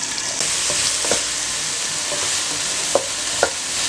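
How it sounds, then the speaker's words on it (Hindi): Onions frying in a pan for noodle chaat give a continuous close sizzle, marked by a few sharp clinks and scrapes of stirring near the end, with no voices. "तकरीबन 3 मिनट के लिए मैंने प्याज को फ्राई किया"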